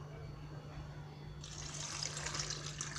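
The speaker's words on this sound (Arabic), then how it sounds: "واش ندلها؟ ندلها الماء." Water starts pouring into a pot of cut orange peel for homemade orange jam, a soft steady splashing stream over a low constant kitchen hum, quiet and close.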